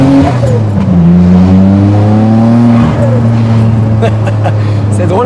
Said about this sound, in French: C'est drôle parce qu'on dirait que le turbo il dit Yahoo!